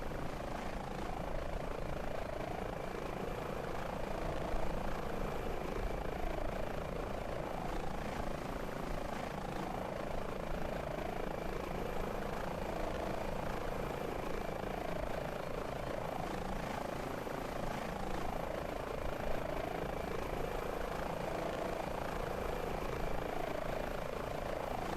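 H145 helicopter engines in Microsoft Flight Simulator run at a steady, continuous whine and rotor drone, even and unbroken throughout during a search-and-rescue training flight in Snowdonia.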